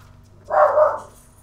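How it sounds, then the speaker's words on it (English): A single dog barks once in the Metal Gear Solid 2 video game, a short, mid-loud bark standing alone over quiet background ambience. "Oh god. Dogs."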